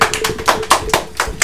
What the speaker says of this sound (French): Bravo, on peut tous applaudir.